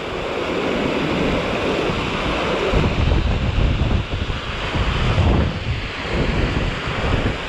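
Flash-flooded creek rushing over a low concrete crossing, a loud continuous roar of churning water with gusts of wind noise on the microphone and no speech.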